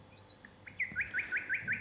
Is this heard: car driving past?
no